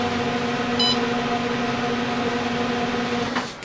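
An electric ceramics kiln controller gives one short, high beep as the kiln is started, sounding briefly over a steady low mechanical hum.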